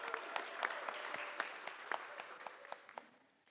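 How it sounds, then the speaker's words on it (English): Audience at a wedding vendor panel gives a short round of applause, with scattered distinct hand claps that thin out and fade toward the end, moderately close and without talk. "Round of applause, please, for Jennifer."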